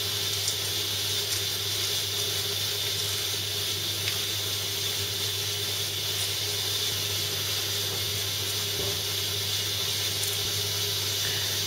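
Cold tap water runs steadily over a freshly hard-boiled egg in a kitchen sink, a continuous broad hiss and splash at close range with no talking.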